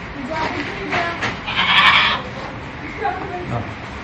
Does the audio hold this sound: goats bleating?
yes